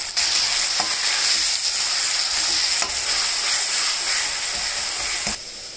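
Two chopped tomatoes fry in a hot pan with a loud, steady sizzle, broken by several sharp scrapes of a spoon stirring them, heard close and alone without speech.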